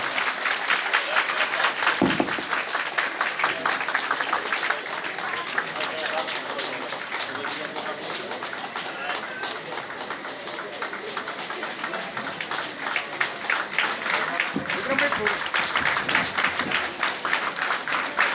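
Sustained applause from a large audience at a grain kit distribution event for a blind welfare organisation in Ahmedabad, dense clapping continuing steadily throughout, with crowd noise mixed in.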